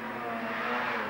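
A Mini Cooper S (Morris Cooper) competing in the Rampa da Falperra hillclimb, its engine buzzing steadily as it accelerates, heard at moderate distance for about a second.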